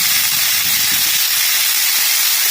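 Peri peri chicken sizzles on a Ninja woodfire grill outdoors, a loud, steady hiss and crackle of fat spitting on the hot grate, with no voices.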